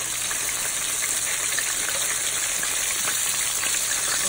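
Breaded whiting pieces fry in hot oil with a loud, steady, close-up sizzle that hisses evenly throughout, with no voices over it.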